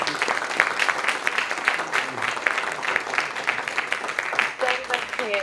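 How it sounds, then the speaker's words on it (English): An audience applauds a panel at a life sciences event in San Diego, steady dense clapping across the whole stretch, with a speaker's voice talking over it. "can we get one more massive round of applause for our fantastic"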